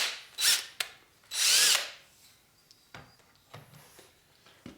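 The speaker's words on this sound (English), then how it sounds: "we are going to attempt to drill this out without doing any damage to any bystanders" A power drill bores into a part on a 2004 Harley-Davidson FLHT Twin Cam touring motorcycle during a suspension rebuild, whirring in two short loud bursts followed by quieter scattered clicks and light tool noises nearby.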